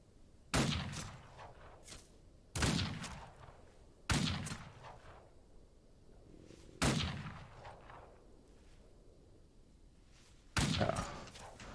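Gunshots ring out at a shooting range in the Old West video game Outlaws of the Old West: five sharp, loud reports spaced a couple of seconds apart, each trailing off in a short echo, with no talk.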